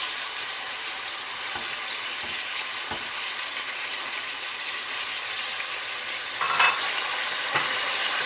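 Tomatoes dropped into about half a cup of hot oil with bay leaves, a dense steady hiss of frying with occasional soft stirring clicks, swelling louder near the end as more goes into the pan.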